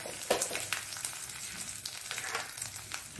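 Red chilli, curry leaves and hing sizzle in hot oil for a Mangalore-style tempering, giving a close, crackling spatter with uneven pops over a soft hiss.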